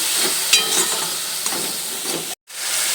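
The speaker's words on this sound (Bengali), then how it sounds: "মশলাটা দিয়ে সামান্য জল দিয়ে দিচ্ছি যাতে ভালো করে কষে যায় আর গুঁড়ো মশলাগুলো পুড়ে না যায়" Spice paste for a Bengali village-style desi chicken curry sizzling and frying steadily in oil with a little water added, a continuous close hiss with a few brief stirring clicks and a momentary break near the end.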